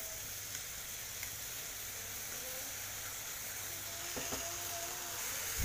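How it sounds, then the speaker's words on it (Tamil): Masala sizzles and simmers quietly in a pan while cooking for mushroom sukka, a soft, continuous hiss with faint bubbling that swells slightly toward the end. "இப்போ இந்த மசாலாலாம் ஒன்று சேர்கிற வரைக்கும் நம்ம வந்து கொஞ்சம் நேரம் இந்த மசாலாவை கொதிக்க வைக்கலாம்"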